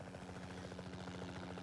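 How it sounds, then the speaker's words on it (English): A helicopter in a film scene gives a steady, rhythmic rotor thump with a droning engine hum, faint and continuous throughout, with no voices. "She hears the helicopter probably"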